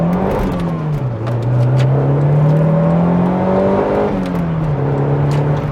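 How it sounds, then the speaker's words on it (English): A Toyota MR2 GT-S Turbo pulls out into traffic, its engine droning steadily and rising in pitch as it accelerates, a dip around a gear change, then climbing again, loud and close from inside the car with no talking. "Driving the Toyota MR2, pulling out into traffic"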